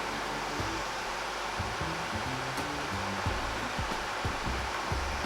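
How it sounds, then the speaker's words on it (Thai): Cooling fans of an MSI GT83VR 6RE Titan SLI gaming laptop with twin GTX 1070 cards roar at full Cooler Boost, a loud, steady, close airy whoosh with faint tonal whine and a few low clicks beneath. "สิ่งที่จะเกิดขึ้นหลังจากการกดแน่ ๆ คือ ความดังของพัดลม"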